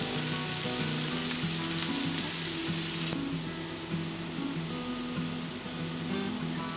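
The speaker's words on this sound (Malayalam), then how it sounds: "ഇതൊരു മീഡിയം ഫ്ലെയിമിൽ നന്നായി കുക്കാണ് വരെ ജസ്റ്റ് ഒന്ന് ഇടയ്ക്കൊക്കെ ഒന്ന് ഇളക്കി കൊടുത്ത് നമുക്കിത് കുക്ക് ചെയ്തെടുക്കാം" Vegetables for fried rice frying over a medium flame, a continuous close sizzle with occasional stirring scrapes in the pan, steady throughout with no voices.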